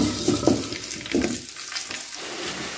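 Salted potatoes frying in hot oil, a steady close crackle with a few louder bursts of stirring or splashing near the start that settle into a softer, even sizzle.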